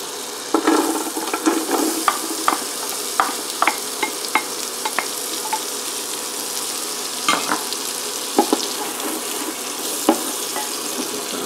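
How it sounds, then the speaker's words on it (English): Diced onion sautés in melted butter in a pot, giving a steady sizzle with repeated scraping and stirring clicks from a utensil throughout. "we're going to saute these down for just a few minutes until we get them nice and translucent and soft looking"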